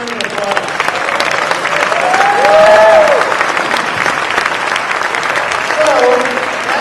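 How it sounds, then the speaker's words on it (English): Full round of audience applause closing a speaker panel event, broad continuous clapping that swells in the middle and holds steady, with a few voices faintly audible beneath it. "Once again, another round of applause."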